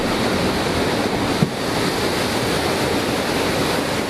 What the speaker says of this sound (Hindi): समंदर की लहरें डरा रही हैं।